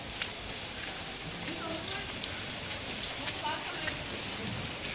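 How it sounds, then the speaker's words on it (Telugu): Light rain falls outdoors in a soft, continuous patter of scattered drops, with faint voices somewhere in the background. "వర్షం అయితే ఆగిపోయింది, కొద్దిగా పడుతుంది."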